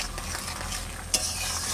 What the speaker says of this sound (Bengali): এবার জল দিয়ে দেবো, বেশি জল দেবো না